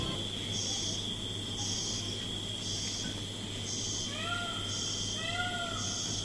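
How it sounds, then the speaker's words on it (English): Forest at dusk in Jaldapara, with a continuous high insect drone and pulsing chirps, while rising wailing bird calls resembling peacocks sound a few times from a moderate distance later on. "In the background, we could hear the sound of beetles and peacocks."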